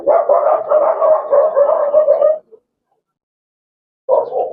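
A tracking dog barks in a dense, continuous run of about two and a half seconds, falls silent, then resumes with a short burst at the end, close and fairly loud.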